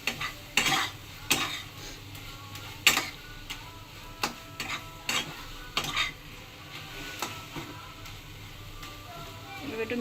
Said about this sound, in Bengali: ভালো করে কষিয়ে নেব যাতে কচুতে যে জলটা আছে সেটা যতক্ষণ না শুকিয়ে যাচ্ছে ততক্ষণ আমরা ভালো করে নাড়াবো